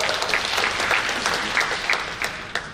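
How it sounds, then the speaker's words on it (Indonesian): A crowd claps steadily, a dense patter of applause that holds throughout and thins slightly at the end. "Tepuk tangan untuk Pak Jansen."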